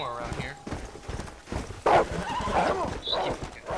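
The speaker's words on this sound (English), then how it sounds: "Zombie horse." Horse hooves clip-clop at a steady trot in the zombie-themed game Red Dead Redemption: Undead Nightmare, with a whinny partway through and someone talking over the top.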